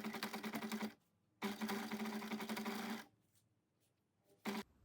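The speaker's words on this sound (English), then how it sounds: "we're going to sew along here with 1 centimeter seam allowance" A sewing machine stitches a 1 cm seam allowance on a top, running in two steady bursts of rapid needle chatter with a short final spurt, loud and close, with no talking.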